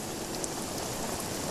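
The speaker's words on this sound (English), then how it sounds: "Ooh, it's raining." Steady rain falling in the video game Spiritfarer, a soft, even hiss of raindrops that runs without pause at low volume, with no talk over it.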